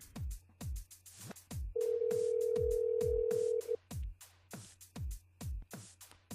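A telephone rings on a live radio call-in show, a steady loud electronic ring tone running about two seconds between sharp rhythmic musical beats, with no talking over it.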